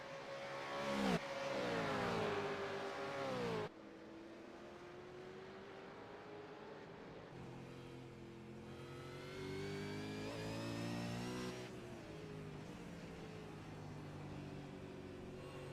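Supercars V8 race cars at Sandown, heard from onboard: a loud engine revving hard through gear changes, pitch climbing and dropping with shifts and braking.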